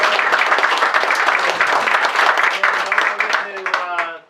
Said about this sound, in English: Want to give Phil a nice round of applause?